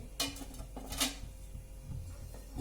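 Metal stand set down inside a kadhai holding water, a few sharp metallic clinks and scrapes close by, separated by short pauses in a quiet kitchen.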